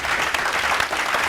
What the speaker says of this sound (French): acclamation pour elle ce matin, s'il vous plaît.